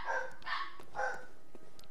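Dogs in the Bloodborne video game barking: three sharp, fairly loud barks in quick succession with a fainter yelp after, over low background ambience.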